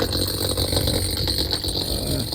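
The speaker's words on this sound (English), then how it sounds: "As you can hear, the guys are starting to drill." Steady, loud drilling machinery grinds on without pause during a 550-gallon oil tank removal in Campbell Hall, New York, a constant motor drone with a high whine over it and no voices.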